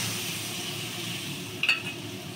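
Steady sizzle of whole spices, cloves and a little cinnamon, frying in hot oil in a home kitchen pan. A short hiss and spatter stand out as water is poured in near the end.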